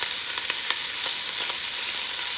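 Meat browns in a pot for navy bean stew, a steady close hiss of sizzling fat with a few soft crackles and pops, heard alone.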